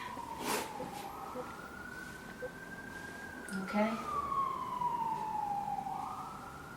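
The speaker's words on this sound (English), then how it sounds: "Sorry about the ambulances, guys." An ambulance siren wails from a distance, its pitch rising and falling as traffic rumbles past; a voice speaks briefly.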